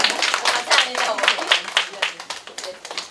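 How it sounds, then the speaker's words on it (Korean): An audience at a Korean future-education talk claps in a scattered rhythm of separate hand claps, moderately close, under a lightly noisy room. "박수 한 번씩 쳐주세요."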